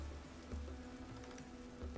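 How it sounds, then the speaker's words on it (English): Soft rain falls in the Vintage Story video game, a faint steady patter of drops on surfaces with a low rumbling bed beneath and no voices. "Now it's starting to rain."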